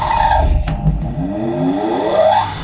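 Three-phase motor wired to single phase through capacitors and driven by a PWM controller, humming loudly with a whine that falls and then climbs again as its speed changes, close and continuous.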